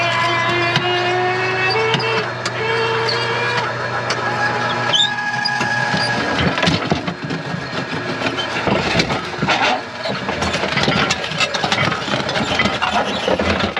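A winch-driven slusher dragging its blade along the ground in an underground placer gold mine: a droning, whining winch motor, then heavy scraping, clanking and grinding, loud and nearby.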